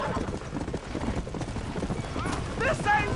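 Horses in a burning barn in Red Dead Redemption, hooves clattering and stamping throughout with frightened neighs and whinnies rising toward the end, amid shouting voices.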